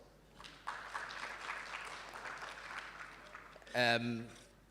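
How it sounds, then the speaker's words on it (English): An audience at a provincial economic roundtable gives the panelists a round of applause, a soft, moderately distant patter of clapping that swells and fades, followed by a brief loud voice. "Another round of applause."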